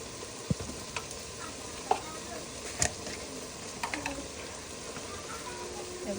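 Ginger paste, garlic paste and chilli fry in a pan while prawns are cooked for a family meal, giving a steady close sizzle broken by a few sharp clicks and scrapes.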